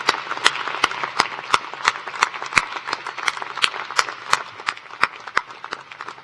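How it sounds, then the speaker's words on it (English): Audience applause fills a university graduate commencement ceremony, a dense, steady wash of clapping hands from a large crowd, with sharp individual claps standing out near the front throughout. "Graduates, please join me now in giving a big round of applause to these family members, friends, loved ones"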